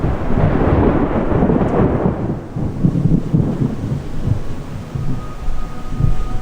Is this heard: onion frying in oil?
no